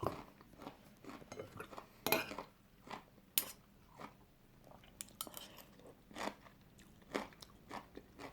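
Someone eating fried chicken with crispy skin alongside a spicy bean salad, with close, repeated crunchy bites and chewing at an irregular pace and occasional cutlery clinks, no talking.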